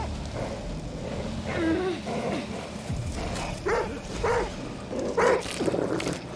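Dog barking in the horror video game The Dark Pictures: The Devil in Me, several separate barks and yelps spaced over a few seconds amid tense background sound, with no talk over them.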